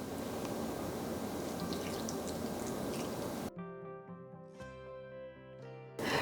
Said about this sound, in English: Pour the vinegar solution over the ginger and leave it for 2 to 3 hours.